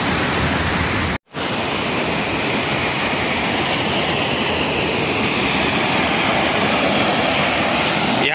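Waterfall at a deep pool in Dasgaon, Konkan, roaring as a steady, loud, dense rush of falling water close by, broken only by one short cut near the start, with no voices.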